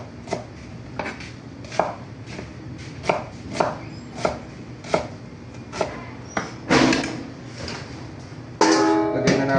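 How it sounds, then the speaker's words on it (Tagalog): Onion and vegetables sliced on a cutting board for pork ensalada, about a dozen crisp knife chops in an uneven rhythm, close and clear, followed by louder rustling and handling, no talking. "Slice na natin to mga ka-kitchen, ang mga gulay na ensalada natin, pork ensalada."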